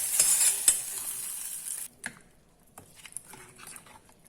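Grated coconut with mustard seeds frying in a pan for Kerala varutha erissery, a bright steady sizzle for about two seconds that cuts off, then quieter scattered clinks and stirring sounds.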